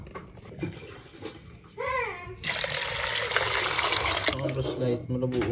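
Five glasses of water being poured into a container for a home remedy, a steady splashing pour that runs for several seconds after a brief trickle, with a voice speaking in the background.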